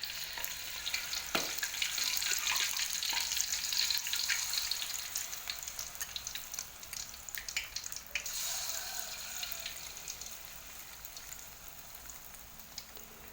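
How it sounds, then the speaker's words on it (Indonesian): Tofu fries in hot oil with a continuous crackling sizzle, loud and close at first and then settling into a steady, slightly softer spatter. "Ini minyaknya sudah panas, kita masukkan, kita goreng terlebih dahulu tahunya"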